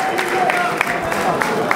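An audience at a political event welcoming Congolese president Félix Tshisekedi keeps up a continuous wash of applause and crowd noise, with a voice faintly audible underneath.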